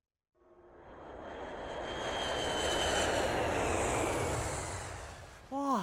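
Steady roar of an airplane engine as heard from inside the cabin, swelling in from silence and holding a broad, constant drone with a faint tonal whine, ending with a brief different sound at the close.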